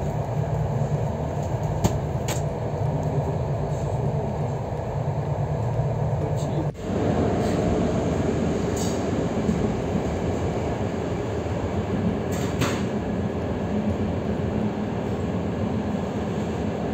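A passenger train rides toward Zielona Góra, heard from inside as a loud, steady rolling rumble with occasional clicks from the rails and a brief dip midway.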